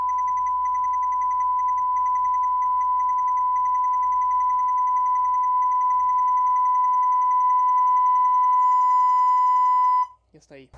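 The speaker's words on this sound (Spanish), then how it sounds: "Vamos a ver con el tono de 1 kHz" A steady 1 kHz test tone plays loud and continuous through a TPA3118 mono amplifier module for about ten seconds, then cuts off abruptly, followed by brief low thumps.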